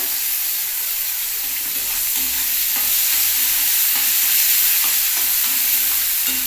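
Cauliflower frying in oil and being stirred, a constant loud sizzle with soft scraping of the spoon against the pan, close up and without speech.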